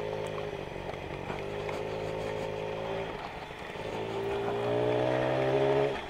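A Suzuki FA50 moped, revived after sitting for decades, runs with a steady buzzing two-stroke drone that rises in pitch and loudness toward the end, close and continuous with no talking.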